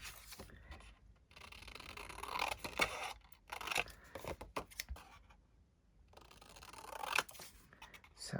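Scissors cut straight lines through journal paper, close and crisp, with long rasping strokes and short snips coming in uneven bursts over a quiet background.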